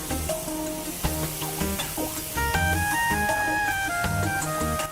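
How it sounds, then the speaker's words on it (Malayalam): Masala of Kashmiri chilli powder and pepper powder fries in a pan for karimeen pollichathu, a pearl spot fish dish. A continuous sizzle runs under repeated scraping knocks of a spoon stirring the mix, with no talk. "നമുക്ക് ഈ മസാലയൊക്കെ ഒന്ന് മൂക്കാൻ വേണ്ടിയിട്ട് നന്നായിട്ടൊന്ന് ഇളക്കി കൊടുക്കാം"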